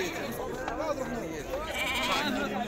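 Sheep bleat at a Saturday livestock market in Aguelmous, Morocco, with several wavering calls rising from the herd under someone talking close by and steady market chatter.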